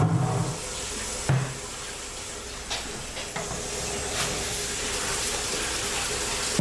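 Tap water runs steadily into a sink while a cloth is rinsed, a soft hiss of flowing water with a few knocks and splashes near the start.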